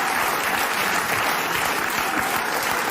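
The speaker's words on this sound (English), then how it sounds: "Why are you clapping?" Audience applause at a comedy-style talk show, a dense, steady wash of many hands clapping at once, loud and close, sustained for the full three seconds with no voices over it.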